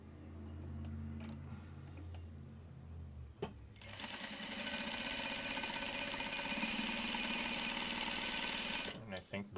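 Sewing machine stitching a quilt four-patch runs steadily and loudly for about six seconds, with a mechanical hum and rapid needle ticking, stopping abruptly near the end; quiet voices precede it.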